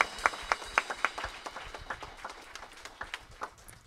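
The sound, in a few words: audience applause in church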